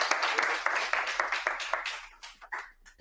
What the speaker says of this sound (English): let's applaud and